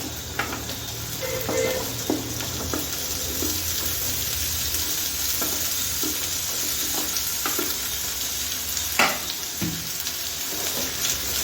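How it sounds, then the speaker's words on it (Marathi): Potatoes stirred and fried with browned onions in a pan for an okra-potato dish, a soft continuous sizzle broken by occasional scraping and knocking of the spoon, with no voices. "थोडेसे परतून द्यायचे बटाटे"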